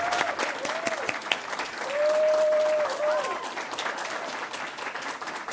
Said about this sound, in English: Let's give a round of applause to Kristen.